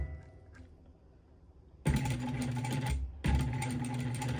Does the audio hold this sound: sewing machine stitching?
yes